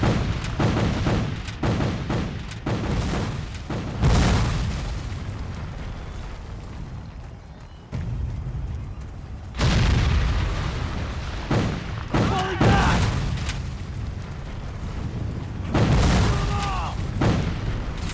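Cannon blasts and explosions from a Civil War video game set in 1861, several heavy booms in bursts across the clip with rumbling decay, mixed with talk between them.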